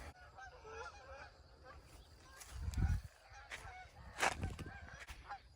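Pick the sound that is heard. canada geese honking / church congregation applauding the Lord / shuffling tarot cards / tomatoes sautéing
canada geese honking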